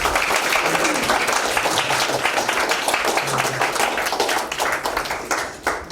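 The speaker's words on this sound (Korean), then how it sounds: "우리 선교사님들 위해서 참 격려의 박수" A church congregation applauds visiting missionaries at a mission forum, dense sustained clapping from many hands that fades near the end, with faint voices mixed in.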